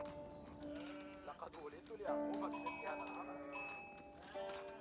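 Sheep in the Age of Empires video game give several bleats in quick succession, fairly faint and mixed with other game sound effects.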